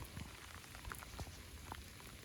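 Heavy rain pours down at St John's Linear Fisheries, a dense, even patter of drops hitting surfaces nearby, steady and fairly soft throughout with no voices.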